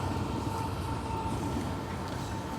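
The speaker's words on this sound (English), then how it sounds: "A train going by." A train rolls past beside a garden with freshly mowed lawn, producing a steady, moderately distant rumble that holds throughout without any speech.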